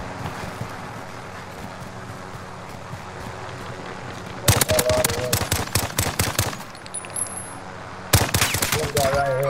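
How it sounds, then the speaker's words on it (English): Gunfire in a battle royale video game: two loud bursts of rapid automatic shots break over a low ambient rumble, the first lasting a few seconds, then a shorter second volley near the end. "Shots here."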